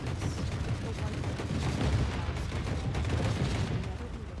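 An enemy turret in the video game Forever Winter lays down sustained, dense gunfire, a continuous barrage of rapid booming shots at steady loudness throughout, with some speech mixed in underneath.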